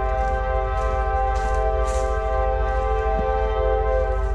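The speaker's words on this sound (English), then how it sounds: "this is the 4th time we will see a train going down this track" Train passing along a track beside a creek, a steady loud rumble with sustained horn-like tones held throughout, no pauses, nearby and continuous.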